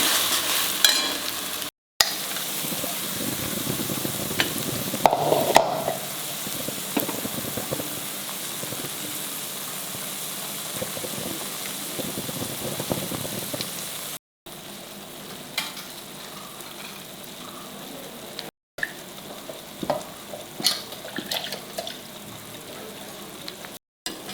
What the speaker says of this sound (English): And reduce the flame and fry the masala well